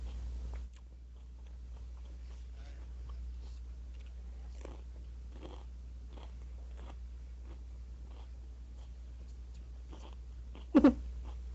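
Someone chews celery close up, with soft, repeated crunching bites spread over several seconds and a louder snap near the end, set against a low, steady hum and no talking.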